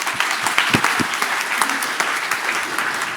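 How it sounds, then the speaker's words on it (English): Loud, dense applause from a large audience fills the space steadily, with scattered sharper claps standing out and a faint voice or two underneath. "the roaring applause here"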